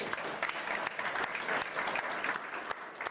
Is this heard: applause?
yes